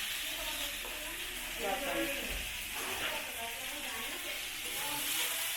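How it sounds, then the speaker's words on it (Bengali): Curry cooking in a pan, a steady sizzle and hiss with soft stirring scrapes, close by, while a person talks over it. "তোমরা দেখতে পাচ্ছ এখানে তরকারি রান্না হচ্ছে"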